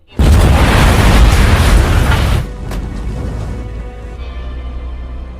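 A loud, close explosion bursts out and roars for about two seconds, then decays into a long rumbling, crackling tail with scattered debris-like pops.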